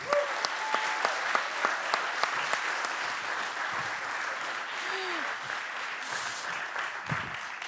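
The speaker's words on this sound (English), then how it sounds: "Can I get a loud applause for Edwin Gardner?" Audience applause for a speaker at a design talk event, fairly faint and distant, with scattered individual claps standing out over a steady clapping wash that slowly thins toward the end.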